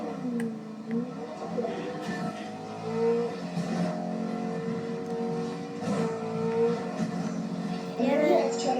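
A car is driven in a video game, its engine humming and revving with rising and falling pitch through several gear changes, while players talk over it.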